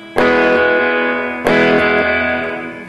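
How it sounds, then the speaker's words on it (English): A pair of loud strummed electric guitar chords treated with slapback echo, each attack followed by a quick repeat and a gradual sustained decay. "Okay, the slapback echo."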